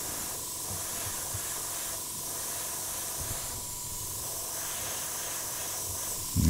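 Airbrush spraying paint onto striped wooden fish pieces for a shoal wall hanging, a steady continuous hiss held close and even throughout, with a brief louder knock at the very end.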